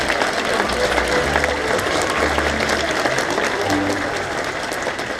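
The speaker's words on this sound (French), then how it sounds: "Je pense que nos otaries méritent quelques applaudissements supplémentaires." Spectators at a sea lion show at Zoo Parc de Beauval clap for the animals. The applause is loud and sustained for several seconds, with faint low tones and murmuring underneath.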